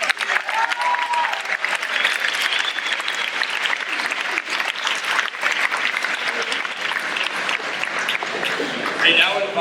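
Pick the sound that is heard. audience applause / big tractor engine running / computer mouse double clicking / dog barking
audience applause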